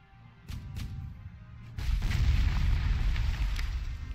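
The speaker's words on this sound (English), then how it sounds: "Perfect opportunity to use my artillery." Artillery in a Cuban Missile Crisis strategy video game fires in a few deep booms: two quick shots early, then a heavier blast followed by a rumbling tail of distant explosions.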